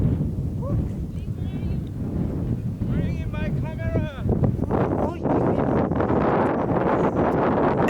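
Steady wind gusting across Sahara desert dunes at night near Merzouga, a broad continuous rush that strengthens in the second half, with people talking faintly underneath.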